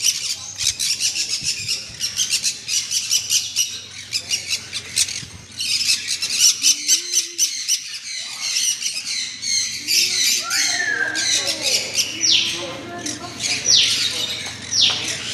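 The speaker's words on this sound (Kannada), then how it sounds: "ಗಿಳಿಗಳು" A flock of parrots squawks loudly and continuously at close range, with dense overlapping harsh calls and chirps throughout, some brief rising squeals, and a low steady background hum.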